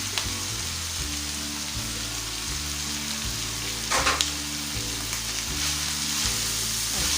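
Capsicum and cabbage sauté in a hot pan with a steady broadband sizzle, joined by a pulsing low hum of repeated background music; a brief louder scrape of stirring comes near the middle, with no talk.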